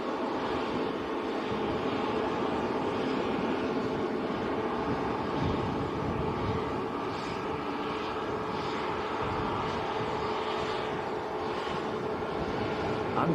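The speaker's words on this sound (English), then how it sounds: "Jet to A330 taxiing out." An A330 jet airliner taxiing at Manchester Airport, giving a steady, fairly distant engine rumble and whine that stays level throughout, with no speech.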